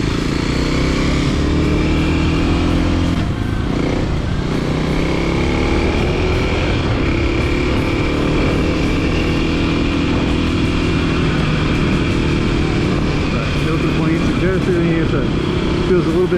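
A new dual sport motorcycle cruising at 70 mph in sixth gear around 7,000 rpm, its engine a loud, steady, buzzy drone with constant wind roar and a voice talking over it throughout.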